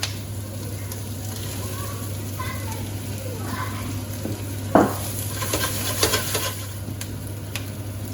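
Chicken sizzling as it is stir-fried with vegetables in a pan, a continuous frying hiss with scraping and clattering of a utensil, louder clanks toward the end, with faint talk underneath.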